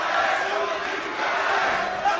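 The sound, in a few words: crowd cheering at MMA fight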